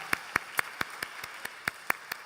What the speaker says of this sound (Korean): 우리 하나님께 감사와 영광의 박수 드리겠습니다